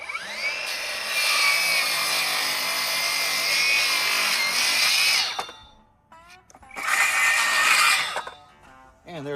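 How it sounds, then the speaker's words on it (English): A power saw cuts a wooden board along a marked line, with a loud sustained whine of the blade biting through wood, a brief pause, then a second burst of cutting. "And I'll try to cut right on this line."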